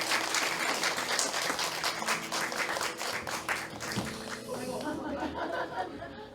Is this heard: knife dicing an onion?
no